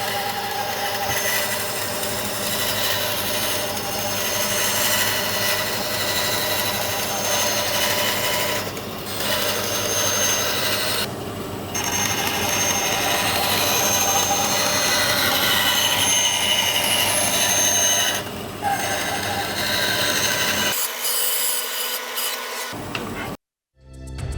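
A woodworking bandsaw runs continuously, cutting timber with a loud, steady whine and rasp that dips briefly a few times, then stops abruptly near the end.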